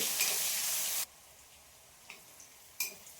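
Onion frying with tempering spices in a pan: a loud hissing sizzle for about a second cuts off abruptly, leaving a quiet background with a few faint clicks and light crackles.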